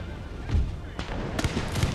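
Artillery explosive shells bursting among cavalry horses in Empire: Total War, heard as a few muffled, thumping blasts in quick succession, moderately loud and somewhat distant.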